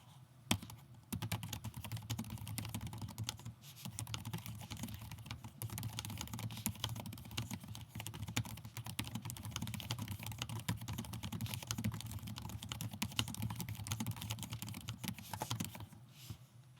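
Rapid, steady typing on the Cherry MX mechanical keyboard of an Alienware X16 R2 gaming laptop, dense clicky keystrokes running continuously and close up with no talking.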